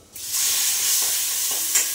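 Cluster beans tossed into a hot pan on a home stove set up a steady, loud sizzle that swells in and holds, with a few faint stirring scrapes and no talk.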